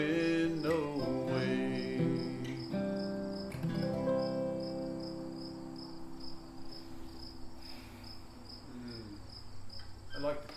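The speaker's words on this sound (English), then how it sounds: "I like the cricket." Crickets chirp in a steady pulsing trill behind a fading sung and sustained musical tone, the insect rhythm continuing alone and clearly once the music dies away.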